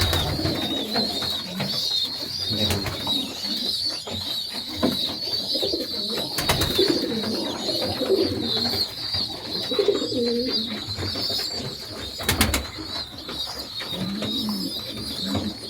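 A mother pigeon feeding her chicks coos in repeated low, throaty phrases, mixed with soft rustling, chick sounds and occasional sharp knocks, all at close range.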